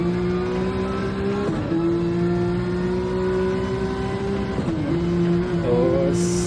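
A Porsche 911 race car engine at the Nürburgring during qualifying holds a steady, droning high-revving tone, with brief dips at gear shifts or lifts, close and continuous.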